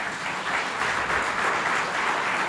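A church congregation applauds during a Spanish-language service, a short, even burst of many hands clapping together in a hall, with no voices over it.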